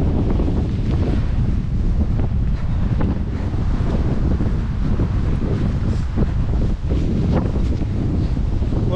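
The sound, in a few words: strong wind on the Brittany coast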